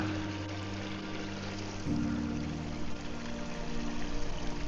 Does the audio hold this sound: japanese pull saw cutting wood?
no